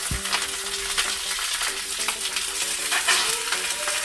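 Chicken breast laid skin-side down sizzles in a hot pan, a dense steady frying hiss with light popping and clinking of a utensil, no talking.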